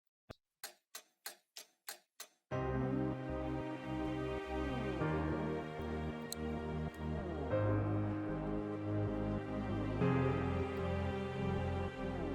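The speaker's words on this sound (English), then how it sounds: "I put in a clock ticking and some rain sounds." A clock ticks alone in a crisp, evenly spaced series of about seven ticks. Then a loud dubstep/glitch hop track with layered synths takes over.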